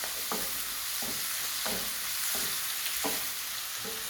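Prawns sizzle and fry in a kadai sauce in a pan, a steady hiss under repeated stirring clacks and scrapes of a utensil roughly every half second, close and fairly loud with no talking.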